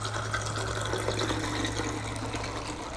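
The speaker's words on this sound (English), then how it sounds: "and then you're gonna top with your soda water" Soda water pours into a bourbon highball glass at a home garage bar, a steady close fizzing, gushing stream of liquid over a low constant hum, with no talking.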